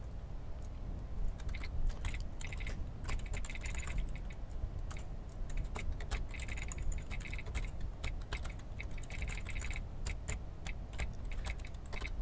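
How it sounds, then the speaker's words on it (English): Fairly quiet, steady typing of Verilog code on a computer keyboard, keys clicking in irregular bursts against a soft background hiss with no talking. "bear with me while I type this."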